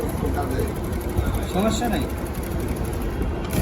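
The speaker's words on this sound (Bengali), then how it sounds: "দেন তারপরে মেশিন চালাতে থাকবেন" A Jack A4B industrial sewing machine running steadily while stitching a design, a continuous mechanical hum and whir beneath someone talking throughout.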